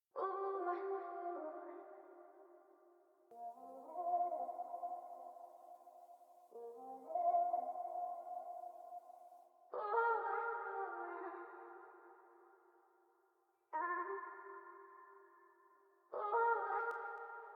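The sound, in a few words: vocal ad-lib samples in an R&B soul production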